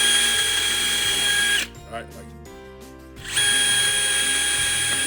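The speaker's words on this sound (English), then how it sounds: "You're just gonna drill 2 pilot holes." A power drill bores pilot holes, whining loudly and continuously, then stops for about two seconds while someone speaks briefly, then starts up again at full speed.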